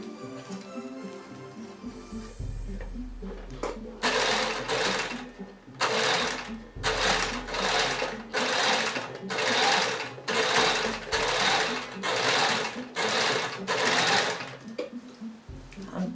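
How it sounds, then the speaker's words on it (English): A sewing machine runs long gathering stitches on a box pleat skirt, whirring in repeated close, loud bursts separated by brief pauses, with occasional quiet handling sounds between runs. "I'm gathering this up now because this machine doesn't seem to be doing the biggest stitch."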